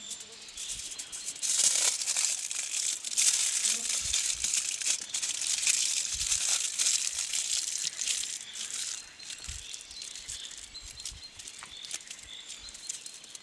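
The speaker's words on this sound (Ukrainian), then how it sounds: "Беремо фольгу." Aluminium foil rustles and crinkles continuously as it is wrapped tightly around halved new potatoes with lard, close and crisp, with occasional soft thumps of handling.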